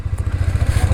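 A Harley-Davidson motorcycle engine rumbles loudly and close by in a steady, fast, pulsing idle with no voices over it.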